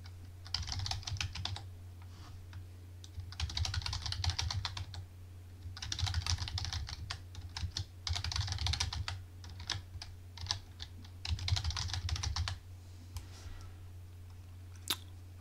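Bursts of rapid keystrokes on a computer keyboard while a password is entered during virtual machine setup, coming in several clustered runs with short pauses, close and clear over a steady low hum.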